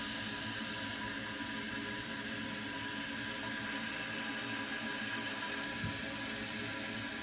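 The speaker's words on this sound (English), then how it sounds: "I'll just allow it to fill, and then I'll flush it one time just to show you." A Kohler toilet tank refills with water after a flapper replacement. The flow is a steady, faint hiss and rush that continues throughout with no talk.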